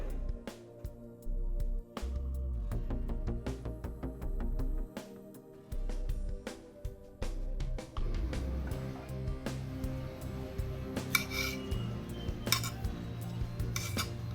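Flat beans being cut into pieces with a knife on a board, a series of close, sharp chopping taps in an irregular rhythm, with some light clatter of kitchen utensils, and no talking.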